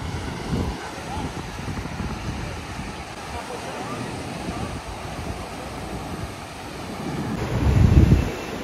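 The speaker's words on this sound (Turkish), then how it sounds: "İşte Bali'nin Kuta sahili." Wind buffets the microphone on Kuta beach in Bali, with surf washing in steadily underneath and a stronger wave or gust building near the end; no speech over it.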